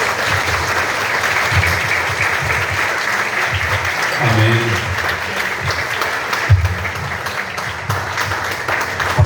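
Sustained applause fills a church as the congregation claps steadily for several seconds, a broad, even wash of many hands with a voice briefly calling out amid it.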